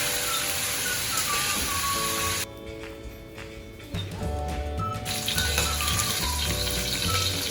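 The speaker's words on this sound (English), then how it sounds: "I'm gonna use deep frying for this." Oil sizzles and crackles steadily as chicken deep-fries, with a brief quieter stretch before the bubbling picks back up.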